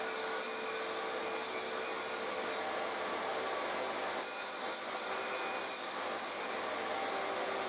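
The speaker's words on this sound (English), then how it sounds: "I've set my table saw to cut to 12 millimeters," Table saw set to 12 millimetres ripping oak offcuts into thin trim, a loud, steady whining roar of blade and motor heard close and alone, without a break.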